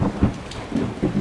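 Rain falls steadily in a Japanese audio drama, with low rumbling thunder swelling in a few soft pulses beneath it, close and moderately loud, with no voices.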